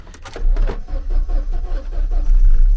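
A Russian car engine cranks briefly with a few quick starter bursts, then catches and settles into a steady low idle rumble.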